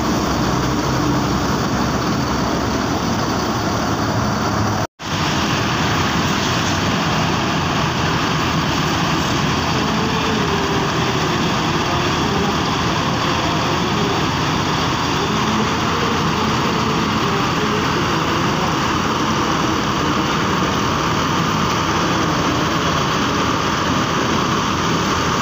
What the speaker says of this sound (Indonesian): Suara mesin dari AR086.